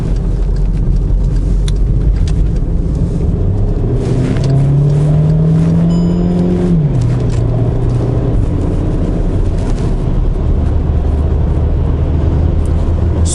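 Skoda Yeti car accelerating on the road with engine revving up, a loud continuous interior drone whose pitch climbs and then drops at a gear change, over steady road and wind noise.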